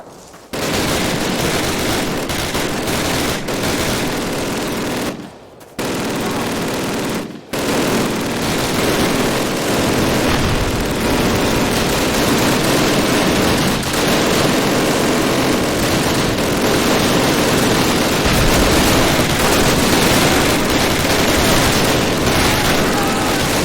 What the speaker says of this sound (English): We got 2 MG-42s out there.